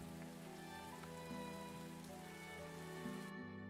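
Steady rain falls in the Farthest Frontier colony-building game, a soft continuous hiss layered over low tonal game music, with the rain noise cutting out near the end.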